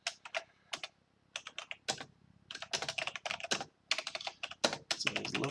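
Rapid, uneven bursts of keystrokes on an unfamiliar computer keyboard, close and clear with short pauses between flurries, no voices.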